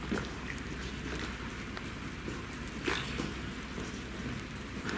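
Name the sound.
rain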